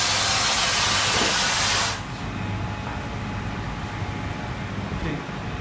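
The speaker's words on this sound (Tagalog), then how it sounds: "So malakas siya kasi singaw talaga. Ayun, makikita naman natin na lumalabas talaga siya." A pressurized immersion suit with a hole, under a service pressure test, vents air in a loud steady hiss that drops abruptly to a quieter continuous hiss partway through.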